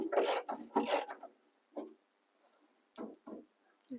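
Knuckles knocking on the empty fuel tank of a 1964 Chrysler New Yorker, a few short hollow raps in two clusters with quiet gaps between, close and fairly soft.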